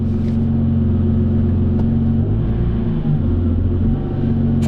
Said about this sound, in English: Well, this is what it sounds like. The engine is still cold. I'm inside of the car, the windows are up.